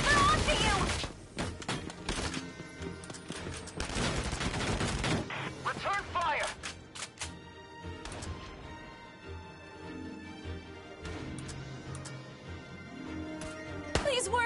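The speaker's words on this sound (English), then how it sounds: "Return fire!" Rapid gunfire and explosive bursts from the video game Valkyria Chronicles 4, loud at first and then thinning into scattered shots, with game music and voiced dialogue underneath.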